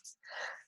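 A single quiet sneeze, close and brief: a short breathy intake followed by a sharp, hissy burst that fades within a second.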